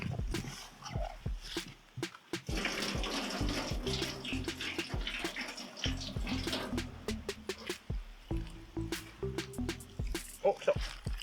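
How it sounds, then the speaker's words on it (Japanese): Water runs through newly laid PVC drainage pipe at a DIY hut that floods in heavy rain, splashing and gurgling with sharp clunks and knocks and a dog barking now and then. "ちょっと一回水流してみますね"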